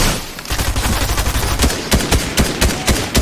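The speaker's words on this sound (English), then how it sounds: "I told you I was getting shot at, you know." Heavy video game gunfire fills the scene as the player comes under attack, rapid loud shots in irregular bursts with sharper cracks toward the end, close and continuous.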